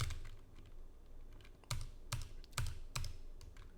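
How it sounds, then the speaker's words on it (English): Keystrokes on a computer keyboard while a service-account username is entered during a Nessus setup, with a few sharp, evenly spaced clacks standing out over quieter tapping, close and clear with no talk. "I'm just going to type Nessus."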